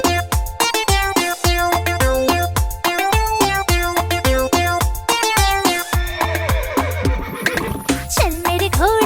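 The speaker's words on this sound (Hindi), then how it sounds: "चल मेरे घोड़े" A cartoon horse whinnies repeatedly over bouncy music in a Hindi children's nursery rhyme, the neighs rising out of a busy, steady musical backing with rhythmic beats throughout.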